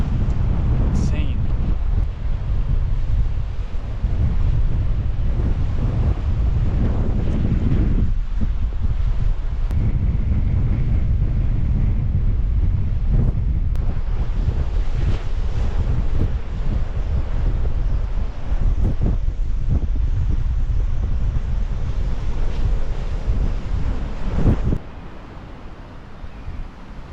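Strong wind buffets the microphone with a constant roar while surf rumbles underneath on a cold, wet beach at Montauk, loud and unbroken for most of the stretch before easing near the end.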